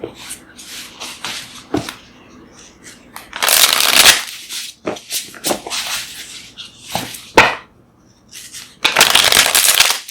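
Tarot cards are shuffled close up in repeated bursts of riffling and slapping, some long and dense, others short, with quiet gaps between them.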